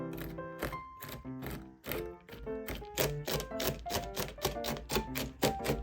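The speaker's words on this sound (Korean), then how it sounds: "아몬드를 잘게 다져줄게요." A knife chops roasted almonds finely on a board with rapid, sharp, close taps in a quickening, slightly irregular rhythm, with no talk.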